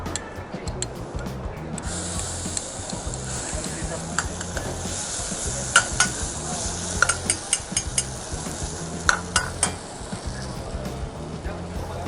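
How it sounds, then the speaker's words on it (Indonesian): Spice paste sautéed in a pan for Jember-style grilled fish, a steady close sizzle with frequent stirring scrapes and light utensil clinks against the pan throughout. "Saya akan menumis bumbunya kali ini"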